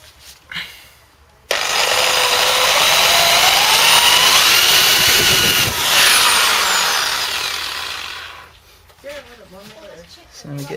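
A power buffing tool with buffing soap polishing the exhaust tips of a 2014 Audi S3 8V, a loud close whirring grind held steady for about seven seconds, with brief quieter moments and talking before and after.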